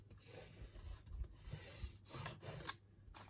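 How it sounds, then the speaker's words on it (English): A paper flap on an envelope-style journal cover is pressed and rubbed down by hand, giving soft, close scraping and brushing strokes in short bursts with one small sharp tick near the end. "I'm just burnishing that down"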